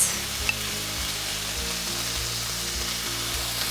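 Tomatoes sizzle steadily in a hot pan for Tuscan orzo, a continuous frying hiss with soft irregular crackles lasting throughout, close and moderately loud, with no voices.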